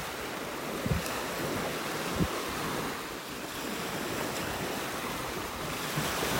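Surf rolls in on a beach in North Naples, Florida, as the tide comes in on a morning walk, a constant wash of waves with wind noise on the microphone and a couple of soft thumps.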